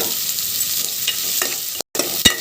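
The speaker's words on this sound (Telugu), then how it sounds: "వీటిని ఫిఫ్టీ పర్సెంట్ బాగా ఫ్రై అవ్వాలి" Ingredients fry and get stirred in a pan for Telangana-style bagara rice, a continuous close sizzle with soft scraping strokes and a brief dropout.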